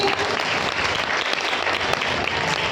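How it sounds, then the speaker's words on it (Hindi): An audience at a spiritual gathering applauds the mothers with loud, dense, continuous clapping that stays even from start to finish. "इन माताओं के लिए ताली बजाओ"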